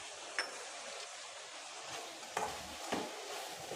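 Curry powder being stirred into a simmering dried fish curry, a soft continuous sizzle and scrape of a spoon in the pot, with a few sharper clinks against the pan, fairly quiet and without talking.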